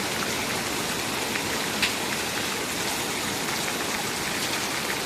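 Hailstones falling in Sangrur district, Punjab, on a morning, as a dense, steady, even patter over a wide area that stays constant throughout with no voices.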